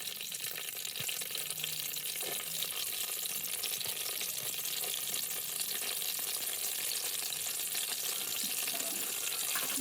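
Nuts and raisins frying in hot oil with bay leaves and cinnamon for milk pulao, giving a steady, close sizzle with faint stirring clinks throughout.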